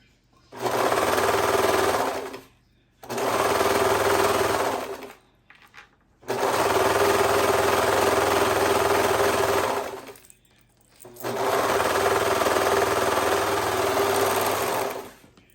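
An industrial serger hems the bottom edge of fabric in four loud, close bursts of fast whirring stitching, each lasting two to four seconds, separated by brief silent pauses.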